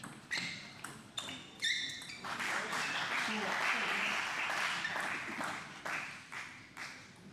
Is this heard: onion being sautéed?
no